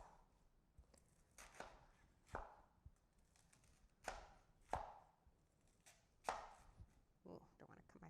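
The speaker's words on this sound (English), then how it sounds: "We're going to just chop it in about 1/2 inch pieces." A knife chops cabbage into half-inch pieces on a cutting board, six or seven crisp separate thunks at an uneven, unhurried pace, close and fairly quiet.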